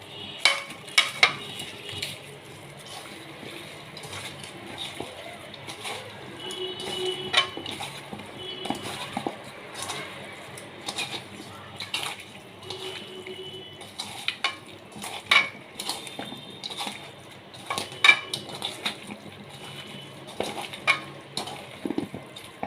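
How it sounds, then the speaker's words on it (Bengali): River fish mixed by hand with ground chili and raw mustard oil in a bowl makes soft squelching and clinking sounds, repeated irregular taps and scrapes close by, with no talking. "তেল গরম হতে থাকুক, আমি এগুলো মেখে নিই।"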